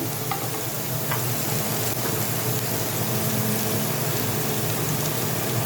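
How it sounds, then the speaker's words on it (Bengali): Peels of three vegetables and bori sizzle and crackle steadily in hot oil while being stirred, a loud continuous frying hiss with faint scraping. "এই 3 রকম সবজির খোসা আর বড়ি তেলে নাড়া হয়ে গেছে।"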